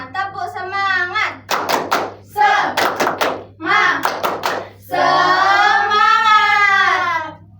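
A class of schoolchildren performs the tepuk semangat spirit-clap rhythm: short bursts of sharp, close hand claps alternate with loud group chanting voices.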